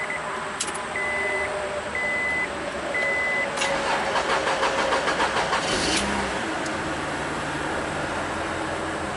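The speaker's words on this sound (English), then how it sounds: "Long crank time, of course." An Acura 3.2 engine with a crank no-start fault cranks steadily without catching, a continuous mid-level starter churn with faint intermittent beeps early on.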